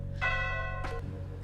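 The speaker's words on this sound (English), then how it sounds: "Then I heard a bell inside my apartment." A bell rings inside an apartment, a clear tonal strike with sustained harmonic ring, followed by a second brief hit, over a steady low hum.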